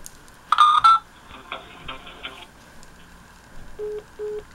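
Telephone keypad dialing tones during a prank call to an Aeropostale store: a quick burst of touch-tone beeps, a few softer tones, then short repeated ringback pulses, faint and close on the line.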